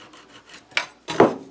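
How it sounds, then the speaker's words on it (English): A chisel pecks and scrapes out a shallow wood recess for a magnet on a bike shed cubby, giving two close, rasping bursts after a few faint scratches. "I'm just going to peck away at that with my chisel until that magnet sits in there good"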